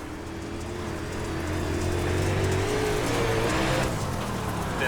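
UMP modified dirt race car from iRacing roaring steadily at close range, its engine note holding loud and continuous with a slight rise partway through and no break.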